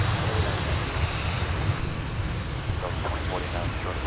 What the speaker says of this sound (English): Here's our United Dreamliner from Frankfurt.